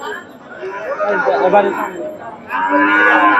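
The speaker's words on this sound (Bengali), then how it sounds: "ফ্রিজিয়ান গাভী মাসাল্লাহ সুন্দর একটা গাভী" A Friesian dairy cow at a rainy cattle market moos loudly and close, with two drawn-out calls as people chatter in the background.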